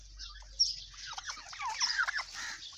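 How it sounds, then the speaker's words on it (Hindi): Live turkeys packed in a pen or box: a breeding pair or trio of males and females, giving soft scattered clucks and chirps that stay moderately close and fairly quiet throughout. "ये टर्कीज़ पैक कर दिए हमने"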